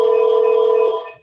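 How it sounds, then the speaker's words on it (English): A phone tone sounds during a Hangouts video call: one loud, steady electronic beep that holds for about a second, then fades away, with no voices over it. "And I hear a phone too."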